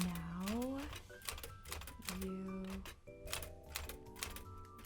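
Mechanical typewriter keys clatter in quick, uneven bursts as someone types out a name, with people talking over and between the strikes.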